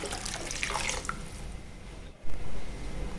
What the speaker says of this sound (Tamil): ரெண்டு டம்ளர் தண்ணி ஊற்றிக்கோங்க.